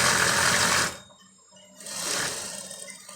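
Sewing machine back stitching a princess dart blouse: a steady, close whirring run that stops for under a second, then resumes for another whirring burst, with no talk.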